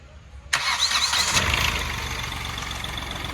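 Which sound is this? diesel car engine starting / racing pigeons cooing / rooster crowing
diesel car engine starting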